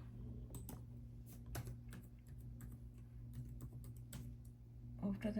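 Close, steady keystrokes on a computer keyboard as Java code for a pattern-printing program is typed, irregular clicks in short clusters over a low background hum.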